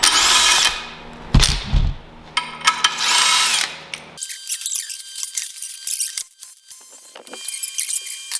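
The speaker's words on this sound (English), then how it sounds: "Ron's got his biggest impact there, putting lug nuts on." A heavy impact wrench drives lug nuts onto a monster truck axle in loud, close rattling bursts of a second or two each, followed by quieter clanking and ratcheting.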